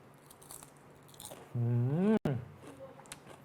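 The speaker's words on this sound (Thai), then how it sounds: "กรอบจนหูอื้อ อร่อยมาก" Crisp bites crunch into a baked riceberry rice seaweed snack, brief crackly snaps close up, with a voice speaking briefly in the middle.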